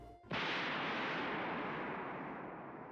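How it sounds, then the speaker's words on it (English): A single loud explosion from the video game Higurashi When They Cry blasts a hole through a closed door, a sudden sharp burst followed by a long roaring decay that fades slowly. "a loud explosion punched a hole in the door the size of a fist"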